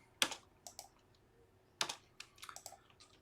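Keys clack on a computer keyboard while someone enters maths expressions into Mathematica, two quick clusters of crisp taps close to the microphone, quiet and without talk.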